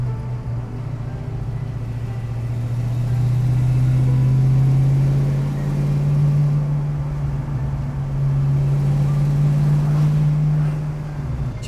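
The engine of a 1967 Ford Mustang Fastback runs with a steady, deep, rumbling hum that rises and falls gently as it is revved slightly. It stays close and fairly loud, with no talking over it.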